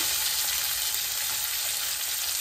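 Chopped tomato sizzles steadily in a hot pan with dal, a dense, even frying hiss with faint stirring scrapes, close and continuous with no voices.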